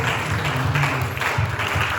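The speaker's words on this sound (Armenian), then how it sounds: "հիմա ծափահարել Տիրոջ" A congregation in church applauding, a dense continuous wash of clapping from many hands, loud and close, with a low sustained tone beneath it.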